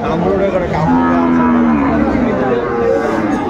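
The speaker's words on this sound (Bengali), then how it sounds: "এই যে দেখছেন, যেদিকে তাকায় সেদিকে গরু গরু" Loud, drawn-out moos ring out close by at a crowded cattle market full of Sahiwal bull calves, over a dense murmur of other animals and people.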